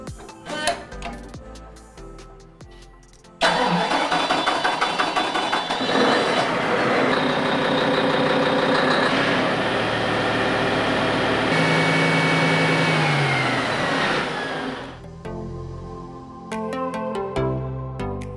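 An RNLI lifeboat engine in an engine room kicks in abruptly with a loud, dense, steady roar that runs for about eleven seconds before dropping off, with quieter mechanical sounds before and after.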